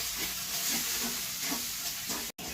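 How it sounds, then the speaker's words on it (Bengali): Chili, cumin and coriander powder stirred into a chicken masala in a pan, a steady sizzling hiss with soft scraping strokes every half second or so, close and continuous, broken by a brief cut near the end. "এবার এগুলো ভালো করে আমি মিশিয়ে নিচ্ছি"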